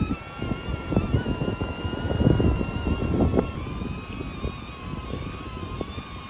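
A DJI Neo drone circling around a small group of people outdoors, its high propeller whine holding steady at a moderate distance, with light movement and handling noise underneath.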